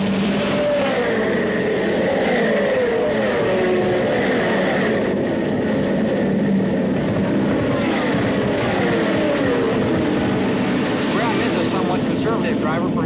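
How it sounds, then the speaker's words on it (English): Race cars roar continuously at a distance at the 1968 Indianapolis 500, with a broad engine drone and passing whines, including a turbine car, while a commentator talks over the noise. "The turbine car has taken the lead immediately."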